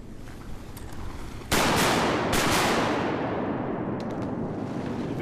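Shotgun blasts fired at mallard ducks on an early-morning duck hunt: a loud, close shot followed quickly by a second, each ringing out into a long fading rumble across open ground, with no talk.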